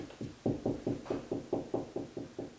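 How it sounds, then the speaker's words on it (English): About ten evenly spaced knocks tap on a ceiling overhead during a ceiling fan installation, slightly hollow, steady in rhythm and fairly quiet. "I'm going to do some knocking."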